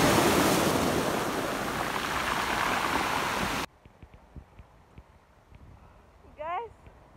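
Rough ocean surf roars loudly and steadily on a Jamaican beach for a few seconds, then cuts off abruptly, leaving quiet background where a voice briefly speaks.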